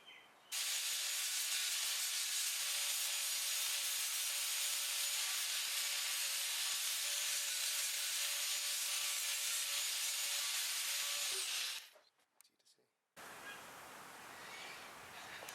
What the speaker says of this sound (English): grind off the paint in the sections there where the cross struts are going to come together, just so that the welds take nicely